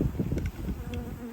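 Honeybees hum in a steady, close, dense drone as they are shaken or brushed off hive frames during queen-cell work, with no voices over the buzzing.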